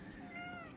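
A cat gives a single short, faint meow, heard on its own.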